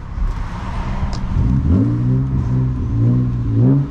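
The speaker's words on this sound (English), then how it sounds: "that fucking E36 sounds crazy" A manual BMW E36 328i revs hard and close on a rainy morning, its engine note climbing and falling in repeated loud pulls with rising, sweeping tones.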